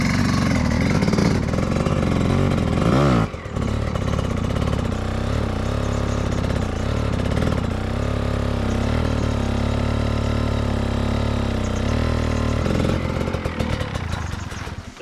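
Trials motorcycle engine during a training ride, rider working the clutch and throttle: a steady mid-pitched running note with repeated short revs and dips, close and continuous throughout.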